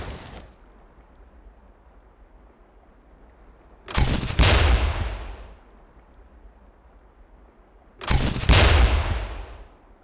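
Two sharp launches from a grenade launcher in Ghost Recon, each followed by a loud booming impact explosion with a decaying tail, spaced about four seconds apart over quiet background.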